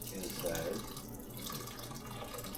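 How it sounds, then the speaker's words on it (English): Thick blended pumpkin poured into a rice cooker, a soft gurgling, sloshing pour that swells early and then settles into quieter liquid sounds, close and faint. "So this is what the blended pumpkin look like, and I am going to pour this inside"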